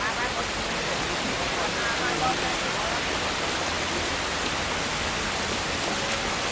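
Rain falls steadily, a dense even hiss of drops close by with no pauses.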